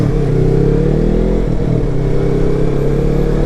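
A motorcycle with its stock exhaust and catalytic converter still fitted rides along steadily, its engine a low, even drone with light revving that stays fairly quiet, and no one speaks.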